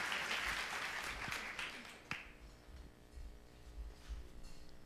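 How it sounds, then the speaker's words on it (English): Audience at a Girl Geek Dinner tech event applauding award winners, a fairly faint patter of clapping that thins out after two seconds into a quieter room. "I'd love to have a round of applause for them."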